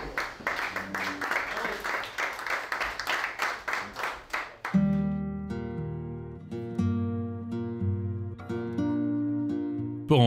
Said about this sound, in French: Apparemment c'est le cas d'après les applaudissements